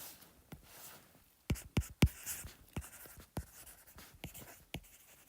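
Someone hand-writes a net force equation in scattered bursts of sharp scratchy strokes and taps. The strokes are close and clear with quiet pauses between them and no talking.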